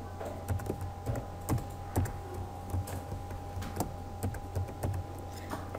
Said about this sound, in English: Retype your new password.